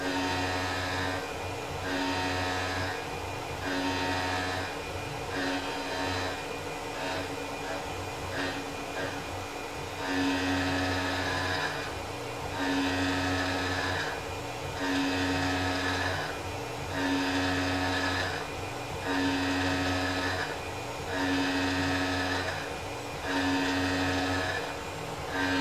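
A Tormach PCNC 1100 CNC mill cuts spiral and circular toolpaths under flood coolant, a steady machine whir and coolant wash with a rhythmic rise and fall in loudness that repeats every second or two.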